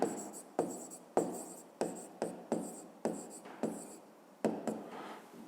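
Pen or pencil writing in a notebook on a school desk during a physics lesson, heard as a series of about eight short scratchy strokes in a steady rhythm, close and fairly quiet, with no talk over it.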